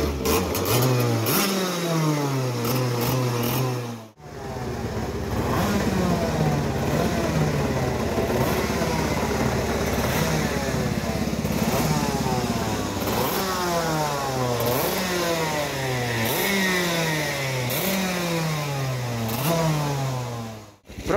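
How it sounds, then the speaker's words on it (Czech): A two-stroke go-kart engine, push-started in second gear without a starter, catches and revs up and down repeatedly, loud and close. It cuts out briefly early on, returns with rising and falling revs, then stops. "Zde si ukážeme proces nastartování dvoutaktního motoru bez startéru"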